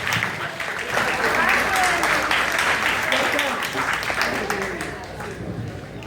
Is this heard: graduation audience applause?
yes